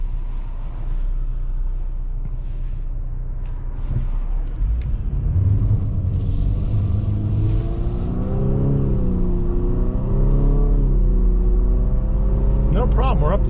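A 2023 Infiniti QX50 Autograph accelerates along a road, its engine rumble building and climbing through gears steadily from inside the cabin, with a person talking over it.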